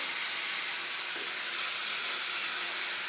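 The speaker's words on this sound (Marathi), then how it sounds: "टोमॅटो मी टाकून घेतलेली आहे थोडीशी आपल्या तेलामध्ये विरगळून द्यायची आहेत" Tomatoes sizzle in hot oil for a Gujarati-style sev tomato curry, a steady bright hiss holding evenly throughout, close and moderately quiet.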